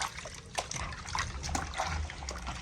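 Fresh water trickles and splashes while raw chicken is washed by hand for a Jamaican recipe, a close, steady dribble with small splatters and no talk.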